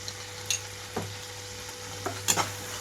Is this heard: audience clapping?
no